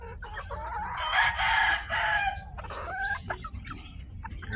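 At a game farm, chickens crow in a loud cock-a-doodle-doo near the start, followed by scattered clucking and softer calls from the flock, with some faint talk.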